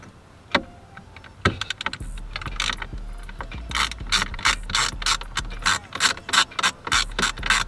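A ratchet wrench backs short screws out of the box area of a Chevy during a 14-inch blue vinyl half-wrap install, with close, rapid, rhythmic clicking bursts after a few sharp knocks, and no talking.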